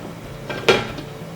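A single metallic clatter as a lid lands on a frying pan of boiling water with eggplant, with a softer knock just before it, then quiet.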